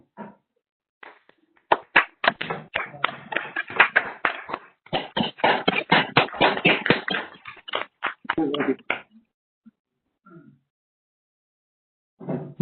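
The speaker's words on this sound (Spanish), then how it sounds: "Les pido por favor a todos un fuerte aplauso para Ernesto Luis" An audience gives a speaker a round of applause at a technical presentation session: sparse, close claps build into a burst of clapping, then thin out into scattered claps and quiet.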